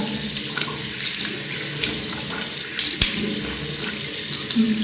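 A bathroom tap runs steadily into a sink during a bedtime tooth-brushing and mouth-rinsing routine, a close, continuous splash with small knocks and shifts in the flow and no talking.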